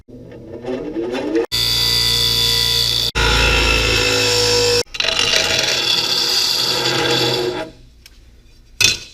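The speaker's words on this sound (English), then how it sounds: "Got some burrs on the end of here from a weld, so I'm just gonna have to grind that down" Loud, harsh grinding of a power tool against a metal plate, removing weld burrs, in several bursts, with brief pauses between passes, then winding down near the end.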